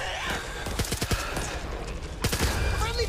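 Gunfire in the zombie shooter Back 4 Blood: a quick burst of rapid shots, then a second volley a moment later, over a busy background of game sound.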